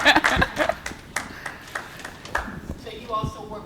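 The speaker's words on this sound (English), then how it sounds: "You can clap. It's okay." Light audience clapping after a grant program presentation, sparse scattered claps from a small group, with a voice speaking over them.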